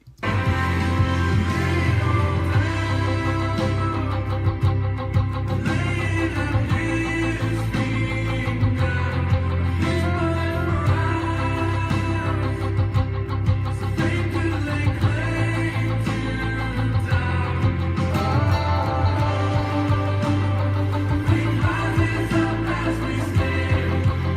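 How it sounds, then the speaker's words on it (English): Overdriven electric guitar with dotted-eighth delay at 173 BPM plays a continuous rhythmic part with echoing repeats trailing each note, steady and fairly loud throughout. "I have a fair amount of overdrive and a dotted eighth delay"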